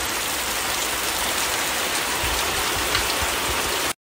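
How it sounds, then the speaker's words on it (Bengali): Heavy rain pours in a dense, steady hiss of drops drumming on surfaces, loud and unbroken for about four seconds before cutting off abruptly. "সঙ্গে সঙ্গে হর হর করে নেমে এলো প্রপাতের মতো বৃষ্টি ধারা।"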